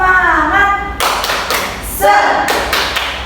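A classroom group performs a rhythmic clapping chant, with sharp bursts of hand claps interleaved with children's voices answering in unison, close and loud.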